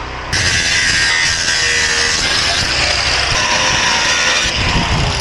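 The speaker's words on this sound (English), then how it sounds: "I'm gonna start cutting this coupler off." A pull-start power saw cuts a coupler off a steel dump trailer with a loud, continuous high-pitched grinding whine close by. Brief pitch dips mark shifts in the cut, and nobody speaks.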